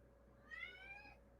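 Male cat named Screech giving one drawn-out, rising-then-falling meow, faint and a bit distant over a low steady background hum.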